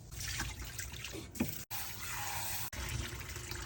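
Tap water running steadily into a pot while rice is being washed, a continuous close splashing rush broken by two brief cuts.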